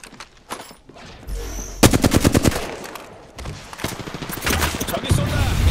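Apex Legends gunfire, rapid close bursts of automatic fire in rhythmic volleys, mixed with game effects and a voice speaking over the fight.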